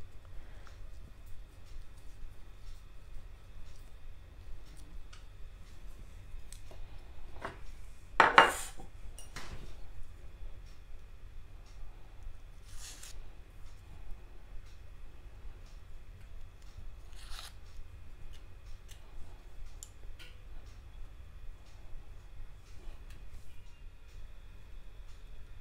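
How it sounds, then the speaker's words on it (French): Potatoes are peeled by hand in a kitchen, with faint, sparse scraping and clicking strokes and one louder clatter midway against a quiet background. "je vais venir éplucher mes pommes de terre"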